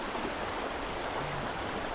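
Fast-flowing river stream at a trout fishing spot, a steady broadband rush of moving water, constant and fairly close, with no voices.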